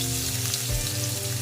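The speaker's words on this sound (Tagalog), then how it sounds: "ilalagay ko na yung ating sibuyas" Onions frying in a pan while a bangus (milkfish) steak is being cooked, heard as a steady close sizzle and crackle that runs unbroken, with no talking.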